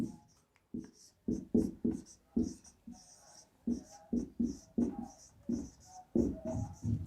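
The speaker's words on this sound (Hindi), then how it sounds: "तो मैं यहाँ पे वो नंबर भी लिख देता हूँ" A phone number being written by hand, heard as short scratchy strokes in quick bursts with brief pauses between digits, close and moderately loud.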